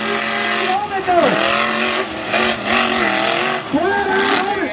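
A mega truck doing freestyle at a New York event revs its engine hard in repeated rising and falling bursts, loud and close, with tire squeal and people talking over it.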